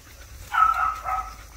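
A single short bark-like yelp from a dog, one of many loose dogs, brief and moderately close against quiet background noise.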